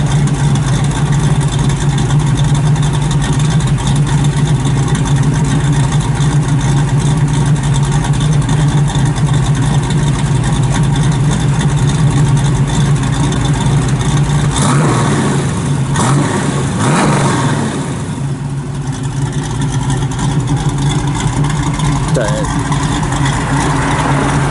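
A 1967 Chevrolet Nova II SS with a 4-speed runs close by, loud and continuous, idling with a steady rumble and then dipping and surging as it revs, while someone talks over it.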